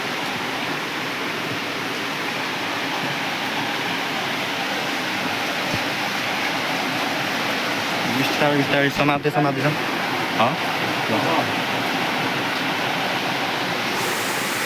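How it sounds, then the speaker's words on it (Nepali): Constant roaring rush of a waterfall near a cave temple on a hike, a broad steady wash of water with someone speaking briefly over it midway. "झरना"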